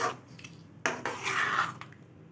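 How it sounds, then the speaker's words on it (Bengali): Panch phoron stirred into green tomato and garlic pickle with naga chili in a pan, heard as a soft close scrape and clink of a utensil against the pan, with a brief louder stroke midway. "এখন নামানোর আগে আমি অল্প একটু পাঁচফোড়ন এগুলো ছিটিয়ে দিচ্ছি। হালকা করে মিশিয়ে দিব।"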